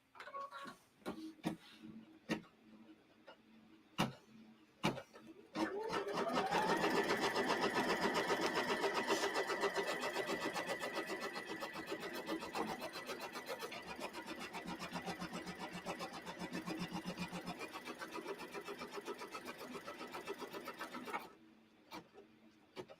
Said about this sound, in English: And now it will do my fabric tack down line.